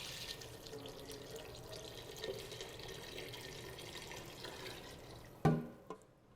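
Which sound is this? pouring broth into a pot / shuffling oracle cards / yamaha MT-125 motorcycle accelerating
pouring broth into a pot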